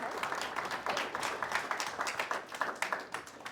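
A small group of students claps in a classroom after a talk about the Dust Bowl and Depression, soft, quick, uneven clapping that stays fairly faint throughout.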